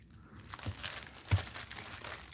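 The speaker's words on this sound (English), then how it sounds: "You have to cut these bags." Plastic packaging bags being cut open with scissors at a craft table, a short run of crinkling and rustling with a couple of sharper snips, close and fairly quiet.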